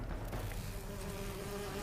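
Steady insect buzzing from the honey-collecting bees released by a honey beast in the Fallout 76 video game, a dense continuous drone held at even loudness throughout, with no voices.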